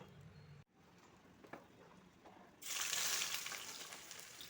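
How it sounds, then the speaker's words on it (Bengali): Sliced onions for birista frying in refined soybean oil, a quiet low crackle at first that swells into a loud, steady broadband sizzle from about the midpoint on. "এগুলোকে আমি এখন রিফাইন্ড সয়াবিন অয়েল দিয়ে ফ্রাই করে নেব।"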